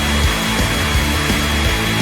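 A hair dryer blows steadily in a kitchen, producing a loud, continuous broadband rush. Faint rhythmic rattling or rubbing sits underneath, and no one speaks.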